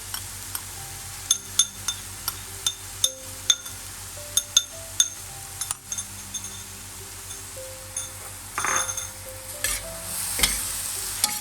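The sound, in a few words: stir-frying with shallot oil poured in, sizzling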